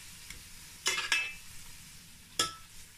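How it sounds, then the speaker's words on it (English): Food stir frying in a pan at home, with a few short bursts of sizzling and stirring scrapes against a quiet background, two close together early and another a moment later. "after stir frying this for about 2 minutes"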